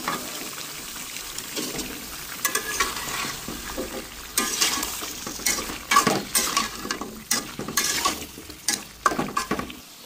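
Pumpkin pieces go into a pot of cooking meat and are stirred, with close scraping and clattering of a utensil against the pan in irregular bursts over a steady frying sizzle.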